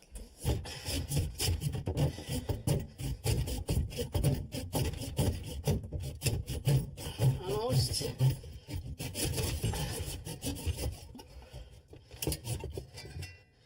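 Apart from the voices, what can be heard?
hand saw cutting pipe trap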